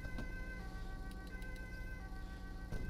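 A wailing ambulance siren in the video game GTA 5, running steadily and loudly through the whole stretch with a constant drone of traffic beneath and no talking.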